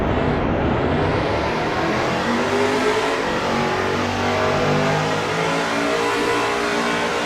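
A race car in a NASCAR racing video game accelerates at Daytona International Speedway, its engine droning loudly and continuously with a steady rising whine and no voices over it.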